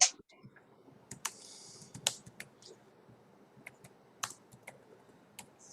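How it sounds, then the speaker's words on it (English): Keys being typed on a computer keyboard in Windows: scattered individual clicks and short bursts of keystrokes at close range over a faint low background hum, with no talking. "Okay, I am typing something"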